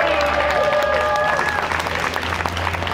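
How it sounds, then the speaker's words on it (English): A crowd at a Transit Riders Union rally applauds steadily with dense clapping, along with a brief whistle and some cheering mixed in. "So let's have an applause for them."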